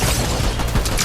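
Shotgun blasts in a fast-paced battle-royale style video game, loud and dense, with several rapid booming reports packed into a second of gunfire close at hand.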